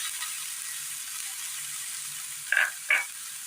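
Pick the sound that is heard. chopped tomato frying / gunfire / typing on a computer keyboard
chopped tomato frying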